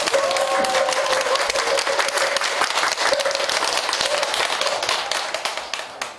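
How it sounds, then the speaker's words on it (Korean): An audience applauds at a Buddhist temple eye-opening consecration ceremony, steady, dense clapping from a crowd that continues for several seconds and then tapers off near the end. "다시 한번 큰 박수 부탁드립니다."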